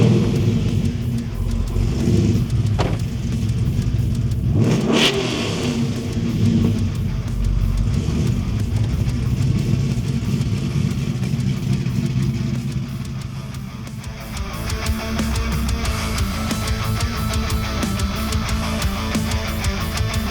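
A 1968 Chevy Camaro with a whipple supercharger drives along a bumpy country road, its engine a steady low rumble heard from inside the car, with a sharp thump partway through and a shift in tone near the end.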